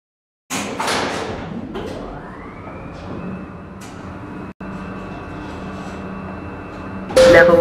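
Skytec Nova lift doors sliding shut, a loud motor whine rising and holding steady for several seconds, followed by a sharp thud as they close, with no talk.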